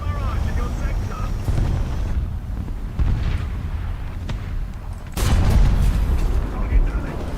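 An artillery barrage rumbles in War Thunder, several deep booming explosions with low rolling tails, one heavy blast louder near the end, mixed with engine-like ambience and intermittent voices.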